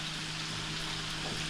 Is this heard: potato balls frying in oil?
yes